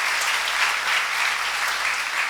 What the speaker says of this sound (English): Can we have a huge round of applause for all our dignitaries on the dais?